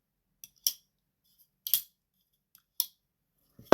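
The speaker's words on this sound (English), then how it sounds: "It has like this little metallic ring with a little plastic click and then closing." A Kizer Brat folding knife gives a few sharp, isolated metallic ticks and rings with a small plastic click, ending in a louder closing snap, close and alone in silence.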